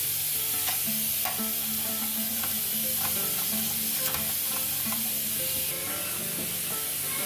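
Food frying steadily in desi ghee in a kadai, a continuous close sizzle with occasional stirring clicks and scrapes, no voices.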